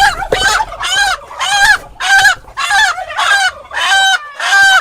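Crossbred country chickens cluck loudly and insistently, about seven squawking bursts in quick succession, close by with no talking.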